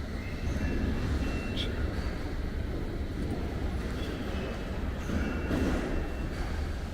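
A London Underground Bakerloo line train heading one stop to Baker Street, a steady loud low rumble of the carriage running throughout, with brief high squeal touches, no talk.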